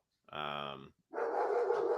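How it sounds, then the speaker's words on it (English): A dog lets out one drawn-out, tonal bark or howl, then after a short gap a longer burst of rough, rapid barking follows, loud and close, indoors during an online discussion. "Apologies for the dog."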